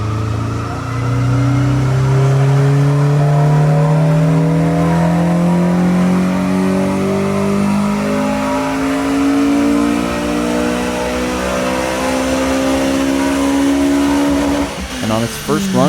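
A Honda Civic Si's K20Z3 engine, fitted with a tuning device, revs hard on a dyno, its loud close note climbing steadily in one long sweep for about fourteen seconds before cutting off abruptly.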